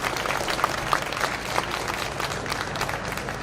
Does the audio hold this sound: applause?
yes